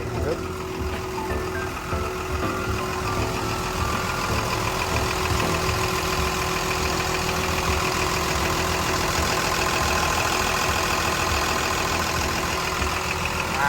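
A Komatsu WA320-8 wheel loader's diesel engine runs at a steady idle, loud and close, with a constant rumbling drone throughout and a person talking over it.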